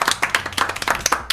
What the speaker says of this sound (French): Vous pouvez vous applaudir pour ce premier round.